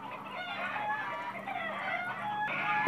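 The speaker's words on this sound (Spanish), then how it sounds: "Disculpen a mis gallinas" Hens startled by a hawk cluck and squawk in an agitated, continuous chorus, faint and somewhat distant, with no talking over them.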